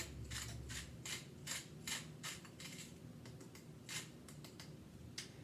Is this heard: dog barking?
no